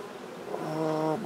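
Honey bees buzz at a hive during a nucleus colony transfer into a ten-frame box, a close, steady drone that swells slightly in pitch over about a second.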